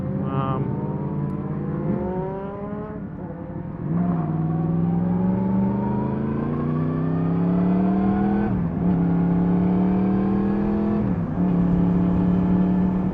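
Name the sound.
cars passing on road while cycling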